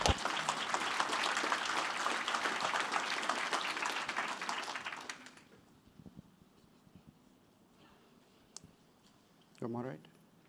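A faculty and staff spring assembly audience breaks into dense, even applause for about five seconds before it stops abruptly, leaving room noise, a few clicks and a brief voice.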